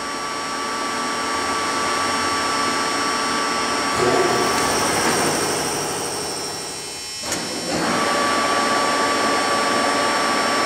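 Lucas 441B-72 table-type horizontal boring mill running at 77 RPM, a steady whirring machine hum with tonal lines, loud and continuous with a brief dip partway through.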